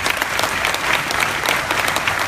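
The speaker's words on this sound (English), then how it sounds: "I can hear the claps." An audience at The Pitch competition finals applauds steadily after a startup pitch, with dense, even clapping throughout and no talking over it.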